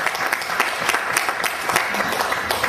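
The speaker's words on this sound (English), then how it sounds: "Give a round of applause" A short burst of lively audience applause at a rock and roll show, many hands clapping closely together at a fairly loud level, continuing briefly without talk.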